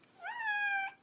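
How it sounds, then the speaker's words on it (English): A single clear cat meow, a drawn-out rising then level cry lasting under a second, close and alone against a quiet background. "He's meowing."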